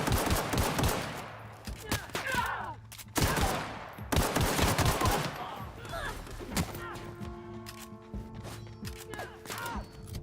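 Dense gunfire in the video game The Outer Worlds, loud bursts of rapid shots and impacts that stop briefly and resume, with sustained tonal game sounds underneath toward the end.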